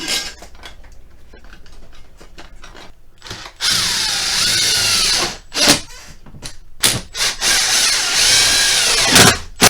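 Power drill snugging down the mounting bolts of a Coleman Mach 3 RV air conditioner, with short bursts of whirring and ratcheting followed by longer sustained high-pitched drilling runs, close and loud, with no talking.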